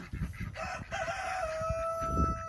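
A rooster crows at a ranch, one long drawn-out call rising and holding, close and loud over some rustling and faint background noise.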